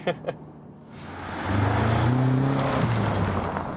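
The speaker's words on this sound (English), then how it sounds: "when you're in high gear, of course, you have this very low frequency sonorous sound" A BMW M5 cruises in high gear, its engine a low, sonorous drone heard from inside the car that swells and holds steady after a brief quiet start.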